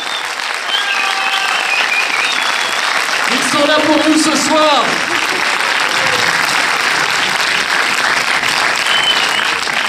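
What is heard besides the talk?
audience applause for Julien Arruti and Tarek Boudali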